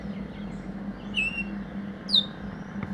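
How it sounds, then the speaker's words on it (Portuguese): Birds calling in a Guyana rainforest in the morning: two short, bright whistled chirps stand out at moderate distance over a steady low hum and faint background ambience, with no talking. "No dia seguinte, o primeiro som é dos pássaros."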